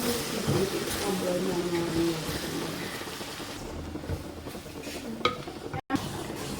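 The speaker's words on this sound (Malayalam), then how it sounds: "മല്ലിപ്പൊടി ഇട്ട് നമുക്കൊന്ന് ഇളക്കി കൊടുക്കാം" Coriander powder is stirred into fish curry masala in a pan, giving soft, steady scraping and a gentle sizzle, close but fairly quiet, with a sharp clink near the end.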